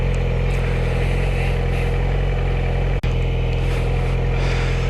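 A motorcycle ridden by a beginner on a practice run hums along with a steady, close engine drone, dipping for an instant midway before continuing at an even pitch while the rider turns around.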